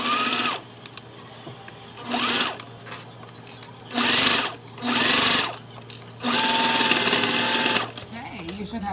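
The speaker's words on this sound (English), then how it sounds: "Middle it up, clip it, and sew that down at 1/8 of an inch." Sewing machine stitching a fabric wristlet seam at a narrow 1/8-inch allowance, running in four or five loud bursts of about a second each with pauses between, the last burst longest, while a person talks over the quieter gaps.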